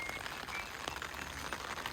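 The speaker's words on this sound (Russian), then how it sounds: "Как вы слышите, идет дождь." Steady rain patters down on an umbrella by a lake in the Alps, a dense, even hiss of drops with a few scattered croaks and chirps faintly in the background.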